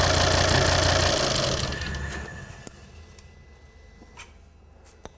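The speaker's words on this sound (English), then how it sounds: "So if we can switch the engine off please." A common rail diesel engine idles loudly and close, then is switched off, its rumble fading away over about two seconds into near silence broken by a few small clicks.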